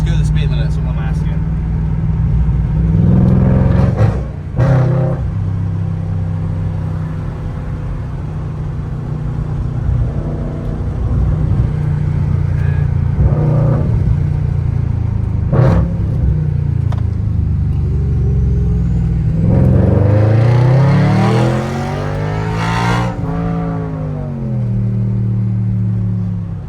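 An Audi RS5 with a 4.2-litre V8 engine driving on the road, a deep continuous rumble that rises and falls with revving and surges near the end, while someone talks over it.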